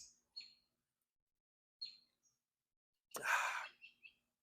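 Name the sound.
birds chirping outdoors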